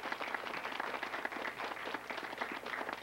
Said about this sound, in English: I want you to greet him with a great big round of applause